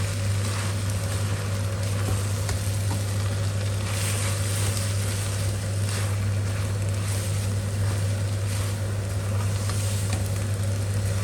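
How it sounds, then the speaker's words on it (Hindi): A chicken and vegetable mixture fries over a full flame with a constant, loud sizzle and crackle, steady throughout and accompanied by a low burner hum. "2-3 मिनट के लिए इसे आप फ्राई करेंगे फुल फ्लेम के ऊपर।"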